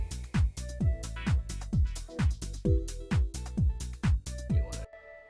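Unmixed house music track playing back with loud, punchy kick and snare hits in a steady four-on-the-floor pulse and a muddy, boomy low end, sustained chords underneath, ending abruptly.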